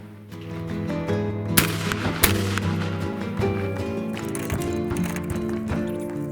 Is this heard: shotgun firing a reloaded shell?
yes